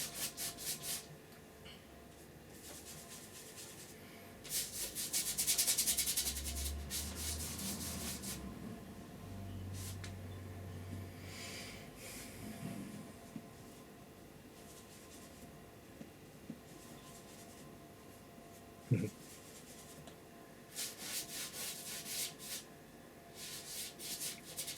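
Stiff brush scrubbing oil paint into canvas for a seascape, a soft continuous rubbing with brief louder bursts and a few small taps, close and steady, no talking.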